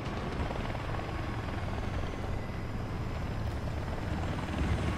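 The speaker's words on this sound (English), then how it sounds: "Then there's definitely a helicopter." Steady, loud rotor thump and engine roar from an AH-1Z attack helicopter in the War Thunder video game, a constant drone that holds the whole time with no talk.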